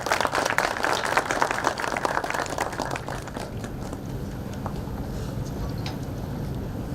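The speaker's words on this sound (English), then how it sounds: "sir, with a big round of applause." Audience applause welcoming a speaker onto the stage at a technology conference, a dense, steady clapping that is loudest in the first three seconds and then settles into a softer, continuous patter.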